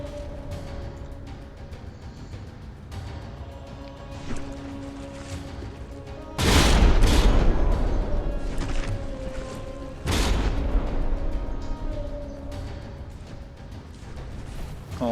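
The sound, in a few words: naval gunfire and shell hits in a video game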